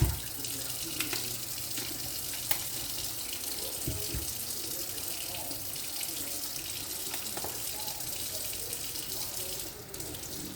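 Running tap water pours steadily into a sink while boneless thin pork chops are washed, a continuous splashing hiss with small clunks and handling sounds throughout.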